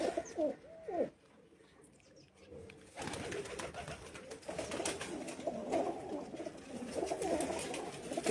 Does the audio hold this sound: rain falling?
no